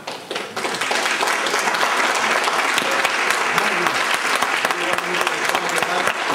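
An audience applauds with dense, sustained clapping that comes in loudly after a brief moment and carries on evenly to the end.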